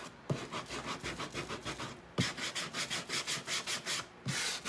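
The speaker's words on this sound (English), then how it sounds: "Let's go ahead and sand this, since we did the other side too." Hand-sanding a wooden Christmas sign, steady rhythmic back-and-forth scratching strokes in close bursts with brief pauses between passes, no voices.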